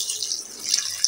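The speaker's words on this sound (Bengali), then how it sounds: "কষানো হয়ে গেছে। এখন দিয়ে দেবো একটু পানি।" Water is poured into a pot of simmering snakehead fish curry with cauliflower, a brief bright splashing trickle close by, heard alone.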